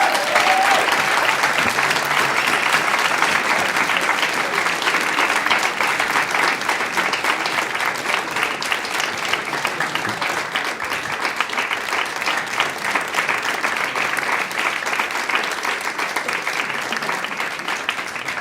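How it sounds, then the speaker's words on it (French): Long, sustained applause from a concert audience for an award recipient at a student orchestra's hundredth concert, a dense steady roar of many hands clapping that holds level from start to finish. "Vous pouvez l'applaudir."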